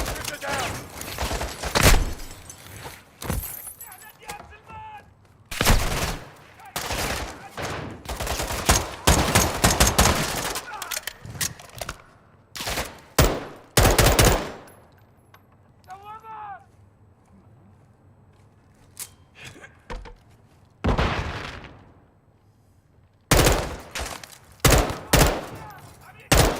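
Gunfire in the video game Control, heard as scattered bursts of shots in clusters with gaps between them, loud and close, over game voices calling out.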